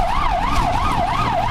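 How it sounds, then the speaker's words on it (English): A European ambulance siren yelps in a fast, regular up-and-down wail, loud and close, over road noise. "they're listening to like the ambulance"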